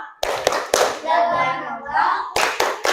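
A school class claps a rhythmic clap pattern, a few sharp group claps at the start, a pause filled by voices, then another burst of claps at the end.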